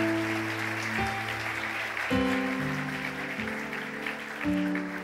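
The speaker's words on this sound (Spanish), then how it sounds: "¿Cuántos pueden darle un aplauso fuerte a Jesús por eso?" A church congregation claps together at a sermon on the miracles of Jesus, a steady wash of applause held under sustained musical tones and organ-like chords for the whole span.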